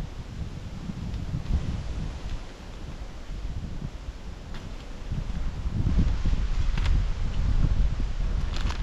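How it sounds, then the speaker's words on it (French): Gusty wind blows across an open lakeside fishing spot, a steady low buffeting rumble that swells and eases, growing stronger toward the end, with faint rustling and no voices. "Aujourd'hui, il y a pas mal de vent."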